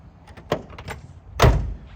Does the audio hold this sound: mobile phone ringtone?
no